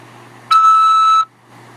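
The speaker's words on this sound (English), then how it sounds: "After the beep," A single steady electronic tone from a phone system sounds just before a prison call prompt, holding for under a second and cutting off cleanly against a quiet line hum.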